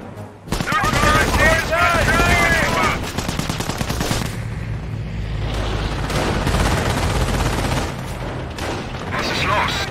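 Gunfire in the Company of Heroes Operation Market Garden mission: loud bursts of machine-gun and rifle fire crackle in rapid volleys, with booms and battlefield din. Shouted voices come through in the mix.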